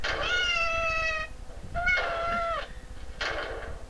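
A cat meows three times, long drawn-out cries with short pauses between them, loud and close, with no talking over them.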